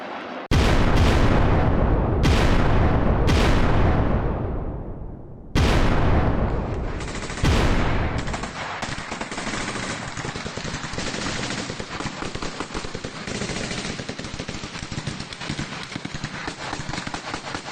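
Russian MLRS rocket fire and gunfire in news footage: several loud, booming launches with long decaying roars, followed by a continuous rattling barrage of rapid shots that fills the rest of the clip.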